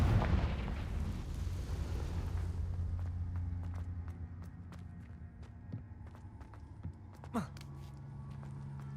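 A Confringo fire spell bursts in Hogwarts Legacy with a heavy rumbling blast that fades over a few seconds, followed by scattered faint impacts and a sharp crack near the end, with no talk.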